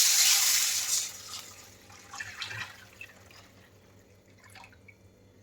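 Tamarind water is poured into a frying pan, starting with a loud splashing rush that fades into softer trickles and scattered drips before going nearly quiet.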